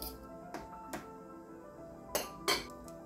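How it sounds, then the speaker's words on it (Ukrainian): A fork presses down a layer of grated hard cheese on a layered mayonnaise Prince salad, making a few sparse metallic clinks against the dish, light and close with a faint hum beneath and no talk. "Також трішки утрамбовуємо виделкою."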